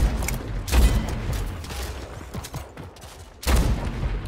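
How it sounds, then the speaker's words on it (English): Gunfire in the online shooter Splitgate during a team deathmatch, loud close bursts of shots with a dense rattling mechanical texture between two heavy blasts. "Yeah, I shot a gun."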